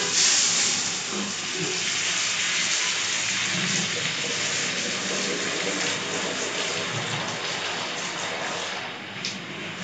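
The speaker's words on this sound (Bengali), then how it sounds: "এটার মশলাটা একটু রয়ে গেছিলো তো এটা ধুয়ে দিয়ে দিলাম" Running water rinses leftover curry spice from a bowl in a home kitchen, a steady broadband rush that continues for the whole stretch with no talk.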